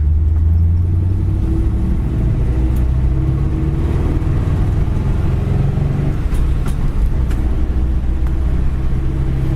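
A 1953 Mercury Custom pulling away in second gear, its engine a steady low rumble with road and wind noise, close and continuous with no talk.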